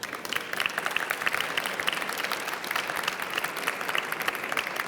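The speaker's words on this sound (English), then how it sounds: "a warm round of applause" An audience at a European conference on an AU-EU innovation agenda giving panel members a warm round of applause, a dense, steady roomful of clapping with no one speaking.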